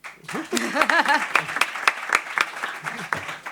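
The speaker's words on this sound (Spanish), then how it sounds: "Un aplauso." Audience applause at a live podcast recording about housing, with a voice talking over the start and scattered sharp claps continuing underneath, moderately loud and uneven.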